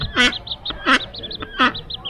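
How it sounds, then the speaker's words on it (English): Ducks quack nearby in New Zealand, three loud nasal calls evenly spaced over a background of softer, high chirping birds. "Some ducks."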